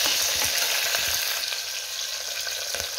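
Potatoes hit hot oil with mustard seeds, giving a steady, close hiss and crackle of frying with light stirring throughout.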